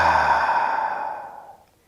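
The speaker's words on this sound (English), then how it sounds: "exhale out your mouth" A single long exhale out through the mouth at the end of a yoga practice, a close, breathy sigh that fades out gradually over about two seconds.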